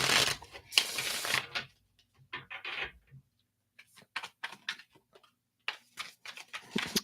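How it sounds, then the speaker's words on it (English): Tarot cards are shuffled by hand in short riffling bursts and soft taps, close and fairly quiet, with pauses between the bursts. "Let me shuffle these up here."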